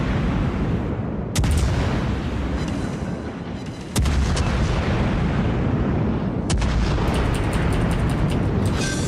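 Naval guns of a Des Moines heavy cruiser firing in a warship video game, with sharp booming salvos over a dense, continuous roar of battle noise and rumble.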